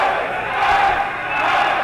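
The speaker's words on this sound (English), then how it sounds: "But listen to this crowd trying to cheer on the coldest wrestler on the planet" A crowd roars and cheers during a steel cage wrestling match between Hammerstone and Ice Williams at FSW No Escape, a steady, loud wash of voices that swells slightly midway without breaking.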